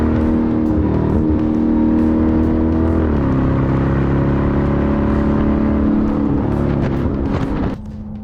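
A Dodge Durango Hellcat engine roars loudly and steadily, holding a deep revving drone with a shift in pitch midway before the sound drops off sharply near the end.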